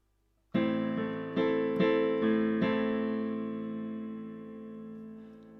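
Piano phrase from a song, with five or six struck notes and chords in a slow sequence that ring out and decay into a long sustained tail, played quietly and close with no voices.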